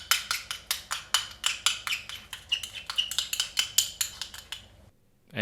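Mayo and masago being mixed in a bowl for sushi hand rolls: a rapid, steady run of sharp utensil clicks against the bowl, close and fairly loud, ending abruptly in silence.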